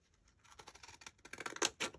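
Scissors cut paper at a craft table while making Victorian-style postage stamps and ephemera: a quick series of crisp snips, faint at first and growing louder and closer over two seconds, with no talk.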